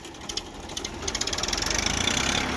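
A tractor engine labours to pull a stuck vehicle, its chugging rising into a fast, steady knocking rhythm as the revs build. It is loud and close, and no one speaks.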